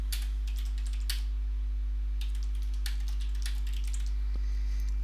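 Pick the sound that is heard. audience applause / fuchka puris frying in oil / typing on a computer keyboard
typing on a computer keyboard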